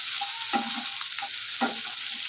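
Food frying in a pan gives a steady sizzle, broken twice by brief louder scraping strokes as it is stirred. No one speaks.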